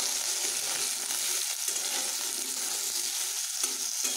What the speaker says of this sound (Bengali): আলুগুলোকে আমি এখন ভেজে নেব